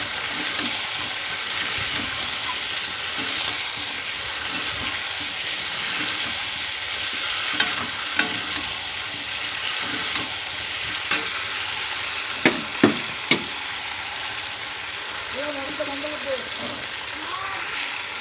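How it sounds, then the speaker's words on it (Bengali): Tripe curry stir-fried in a pan makes a continuous loud sizzle, with spatula scrapes and a few sharp clinks against the pan toward the end. "খুব ভালো করে কষাতে হবে এটা অনেকক্ষণ ধরে।"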